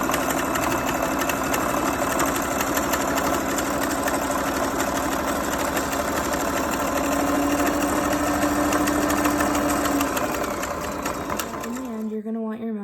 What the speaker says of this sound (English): we're just gonna sew till the edge.